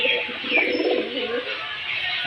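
Pigeons coo at close range in a loft in Beldanga, Murshidabad, with soft, rolling calls that overlap in a continuous murmur and carry no talk.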